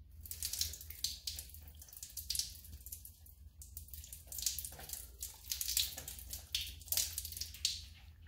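Water sprays and splashes onto ceramic-coated car rims in bursty, hissing pulses, fairly faint and close, with no talking.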